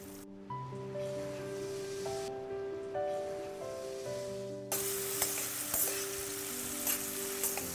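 Chopped tomatoes frying with golden onions for a South Indian mutton fry, heard first under background music, then as a loud, steady sizzle with occasional spatula clicks.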